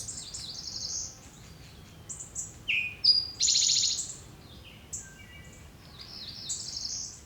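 A Cerulean Warbler sings in a Blue Ridge woodland, a series of high buzzy chirps and trills, moderately close, over a faint steady background hum.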